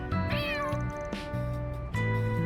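A cat meows several times in the video game Trails Through Daybreak 2, clear and close, a short series of rising and falling mews over a soft in-game background hum.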